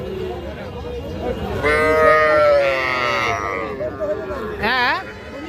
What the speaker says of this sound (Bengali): এইটা একটা বকনা বাছুর